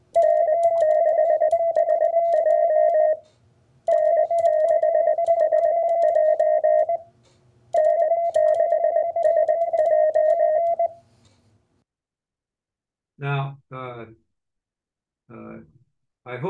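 Amateur radio CW Morse code pileup, with a call offset lower in tone than the other callers: three long stretches of steady, dense tone with short gaps between them, then someone talking briefly.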